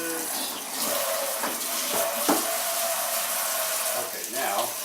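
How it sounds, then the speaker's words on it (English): A kitchen faucet pours water into a sink during rinsing, a steady close hiss of running water throughout with faint clatter and shifting splash tones. "Okay, let's rinse it down for a little bit."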